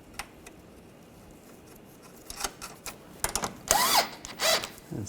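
Nuts on a front sway bar bushing bracket of a 2004-2009 Audi A4 Quattro being run down with a power tool: a few short, loud buzzing bursts near the end after quiet workshop background.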